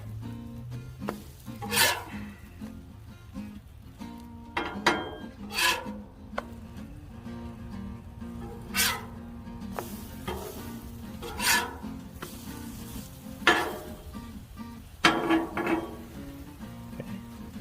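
French toast sizzling on a hot Blackstone flat-top griddle, a soft continuous crackle and frying hiss with scattered scraping and shaking noises, fairly quiet and heard with no talking.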